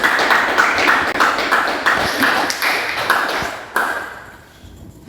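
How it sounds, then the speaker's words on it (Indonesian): An audience applauds the jury at a campus event, with a steady patter of many hands clapping in quick rhythm that swells and then thins out toward the end. "berikan tepuk tangan yang meriah kepada Dewan Juri kita"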